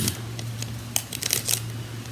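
Scissors snip through a piece of thick tape in a few quick, crisp cuts that cluster near the end, close by, over a low steady hum.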